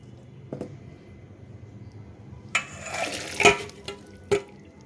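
Short splashes and pours of cooking water draining from pressure-cooked cluster beans, a few quiet spills early then louder gushing bursts near the end, close and otherwise fairly still.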